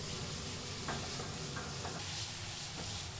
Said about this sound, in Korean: 강한 화력으로 재료를 볶는 조리장.